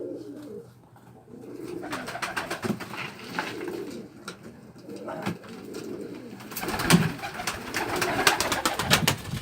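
Show pigeons in a Dushanbe loft coo repeatedly, low throaty calls rising and falling close by, with scattered sharper bird sounds and a brief flutter of activity toward the end.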